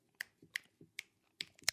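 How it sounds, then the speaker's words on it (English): Sharp finger snaps crack out one by one in a quiet room, about six crisp clicks in an uneven rhythm, close and isolated with no talk. "the way you be snapping your fingers"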